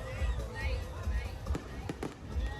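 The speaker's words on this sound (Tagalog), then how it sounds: "walang katapusang fireworks display" Fireworks burst over the Dinagat Festival grand finale, deep booms and sharp crackles coming in uneven succession at a distance while a crowd murmurs and people talk nearby.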